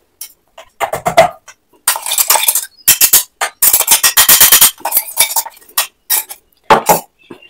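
Finely ground herbal powder for a homemade hair dye tipped back onto a metal plate, giving a string of close metallic scrapes and clinks in uneven bursts with short pauses between.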